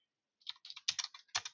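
Keys clack on a computer keyboard while text is typed into an MS Word document, a short burst of about ten quick, close, crisp taps after a moment of silence.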